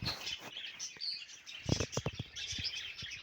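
Canaries chirp and tweet in quick, bright bursts, fairly faint and a little distant, with soft clicks and rustling between calls.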